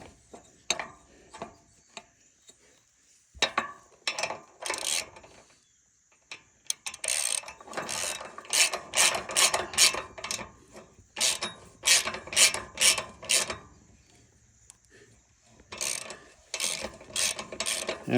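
Ratchet wrench clicks in bursts as a bolt is tightened while changing belts on a Kuhn GMD600 mower, the rapid ticking close and repeated in several runs separated by short pauses.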